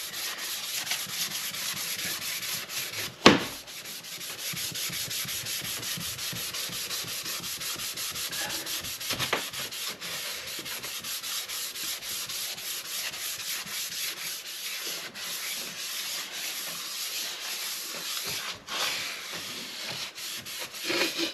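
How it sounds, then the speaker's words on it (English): A sponge rubs finish into boat wood with a continuous scratchy swishing, repeated strokes at close range and one sharp knock near the start. "And then you just basically rub it in. I find the sponge is the best for everything really."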